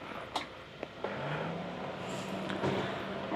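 After a battery replacement, a motorcycle engine cranks with a few short clicks and then catches into a faint, steady idle hum heard from close by.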